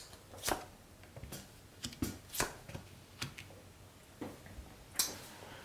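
Tarot cards shuffled and drawn from a deck, a scattered series of soft, sharp flicks and slaps spaced irregularly, close and quiet, with no talking.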